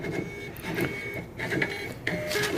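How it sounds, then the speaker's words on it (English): A receipt printer at a point-of-sale terminal prints out checks, giving a close, steady mechanical buzz and whir with short stuttering pulses as the paper feeds, moderately quiet and with no talking. "the printing machine prints out the checks"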